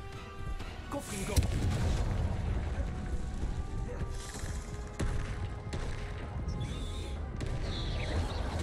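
In Hogwarts Legacy, the Confringo fire spell bursts with sharp blasts and booming impacts over a rumbling game soundscape, a few punctuated hits spread through the stretch while someone talks in the background.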